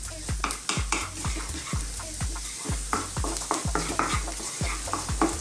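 Fresh curry leaves sizzling in a pan for a fish steak curry, a steady crackle under rhythmic stirring, a utensil knocking the pan about twice a second.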